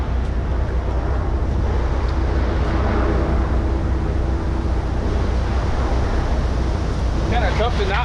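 Strong wind blowing outdoors beside a dump trailer being tarped, a steady loud roar buffeting the microphone throughout, with faint rustling underneath.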